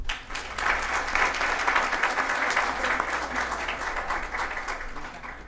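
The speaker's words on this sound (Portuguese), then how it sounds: "Uma salva de palmas," An audience at a digital-law lecture held with OAB Londrina gives a steady round of applause. The dense clapping fills the room evenly and tapers slightly at the end.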